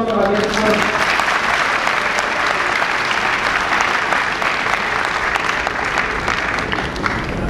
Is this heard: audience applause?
yes